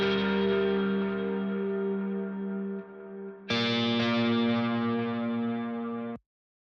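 Ambient electric guitar through an Archetype Nolly amp plugin on a preset called Big Vibe, for a metal song mix: a long, washy sustained chord, then a second struck chord ringing with heavy effects before cutting off abruptly.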